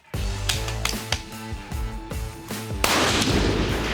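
A precision rifle fires at a playing card downrange, a series of sharp percussive cracks in quick succession with rumbling echoes, ending in a broader loud burst.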